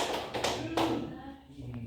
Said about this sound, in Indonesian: Tepuk satu, tepuk satu, tepuk dua, tiga.